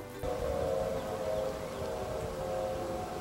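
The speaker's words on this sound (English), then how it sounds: "They test all the sirens" A loud tornado warning siren during a statewide test starts abruptly and holds a steady wailing tone, droning on continuously with a low rumble beneath.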